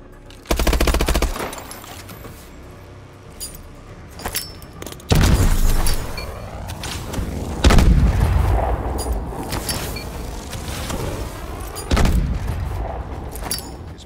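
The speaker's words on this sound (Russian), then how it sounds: "Начинаю тренировку по метанию гранат." Grenade blasts from grenade-throwing training in Call of Duty: Advanced Warfare: four heavy booming explosions spaced a few seconds apart, each with a sharp onset and a long rumbling, debris-filled tail, loud and close, with no talking.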